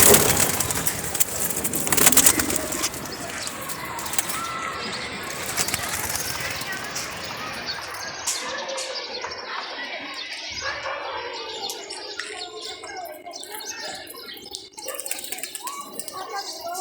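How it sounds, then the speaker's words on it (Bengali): Pigeons in a coop, with soft chirps and flutters scattered through a busy background, louder and denser early on and thinning later, while a person talks over them. "দেখেন অনেক সুন্দর কবুতর, অনেক সুন্দর লাগছে"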